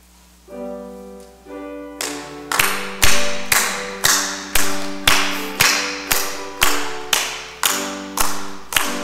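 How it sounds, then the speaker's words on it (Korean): A church congregation claps steadily in time to a hymn at an early-morning prayer service, sharp regular claps ringing out over sustained organ or keyboard chords. "찬송가 252장 박수하시면서 찬양하겠습니다."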